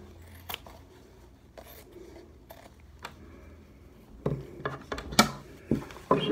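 Scissors cut through a restaurant face mask, giving sparse crisp snips at first and then a quicker run of louder, sharper cuts near the end, all close-up.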